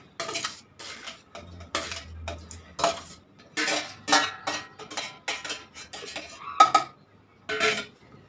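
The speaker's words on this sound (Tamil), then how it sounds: "தட்டில் ஆற வச்சுருந்த அந்த கிரேப்ஸை ஒரு மிக்ஸி ஜாருக்கு மாற்றிக்கோங்க." Grapes are moved from a plate into a mixer jar, heard as a quick series of close, light clinks and taps of a spoon on plate and jar.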